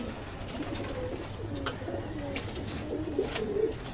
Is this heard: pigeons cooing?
yes